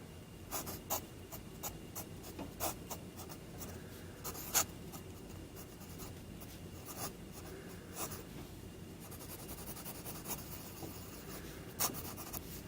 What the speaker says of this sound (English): This is a very fine, an extra fine kind of dry nib, which we'll do here.